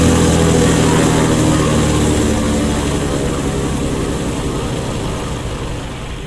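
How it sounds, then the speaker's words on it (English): A Piper Saratoga single-engine airplane runs up on the ground at night: a loud, close, steady propeller drone and engine rumble that eases slightly over about six seconds, with no voices. "It's almost 8:30 p.m. when John starts the Saratoga's single engine."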